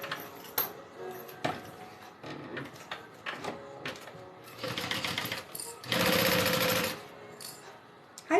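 Sewing machine stitching down the lining of a Denver backpack, about 1/8 inch from the seam, in short stop-start bursts of rapid mechanical chatter, ending in one longer sustained run; close and fairly quiet with no talk.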